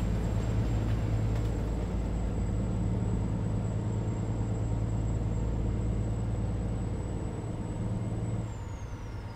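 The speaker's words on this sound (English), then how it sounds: "This truck actually sounds really, really good." Steady loud drone of an 18-wheeler's engine in American Truck Simulator, a FedEx Freight truck cruising on the highway, with continuous low rumble and a high whine that fades near the end.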